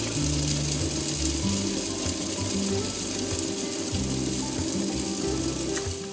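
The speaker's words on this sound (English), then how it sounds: "So we'll just get our macadamias and put it in the food processor" A food processor whirs and rattles as it chops macadamia nuts, a continuous mechanical drone with choppy, stuttering pulses, close and fairly loud.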